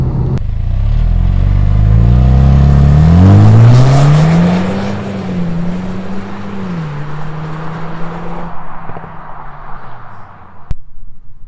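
A Jaguar F-Type P300 with a 2.0-litre four-cylinder turbo engine revs loudly and close, its pitch climbing and wavering through rising pulls before settling into a lower, quieter idle with a sharp click near the end.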